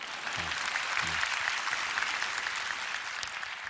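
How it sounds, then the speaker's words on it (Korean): A church congregation claps together in steady, dense applause that holds at an even level throughout, with a couple of brief low voice murmurs near the start. "저희 교회, 여기서 한번 박수 치고 갈까요?"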